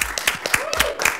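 A small studio audience claps to greet guests appearing on screen, a few distinct, rhythmic handclaps close by, mixed with cheering voices.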